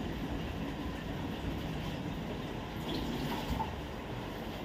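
Tap water runs steadily into kitchen bowls and mixing bowls being filled, a constant close rushing hiss with no pauses.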